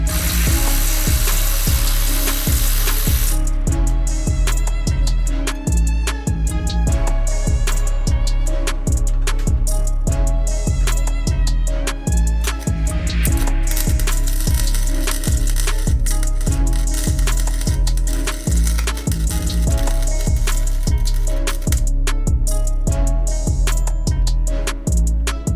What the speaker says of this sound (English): We're gonna have to weld a nut to the stud and hopefully we can get it out